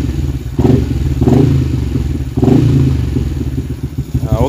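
A fuel-injected Yamaha LC V8 motorcycle with an upgraded throttle body sits running close by, its engine chugging unevenly with several short revs and thumps.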